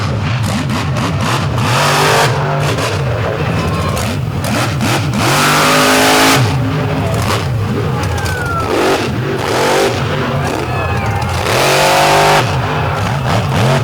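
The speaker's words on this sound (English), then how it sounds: "that truck does some awesome wheelies, and you see it right there, right back on the wheelie bar" Monster truck engine revving hard through an all-star finals freestyle run, a loud, continuous roar that surges and drops in repeated throttle bursts with no talk over it.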